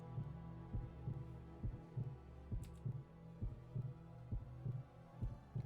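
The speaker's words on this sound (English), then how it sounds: "There's a heartbeat, by the way." A steady heartbeat thumps in The Silver Case video game, a regular double pulse about once every second over a low hum, with no voices.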